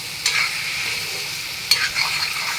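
A spoon stirs a salted paneer filling in a pan, giving two short scraping strokes over a steady, bright sizzle, close and fairly loud.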